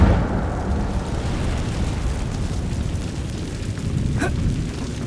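Incendio fire spell cast in the Hogwarts Legacy video game, a roaring burst that settles into a sustained low rumble, with a brief bright flare near the end, loud and close with no talk.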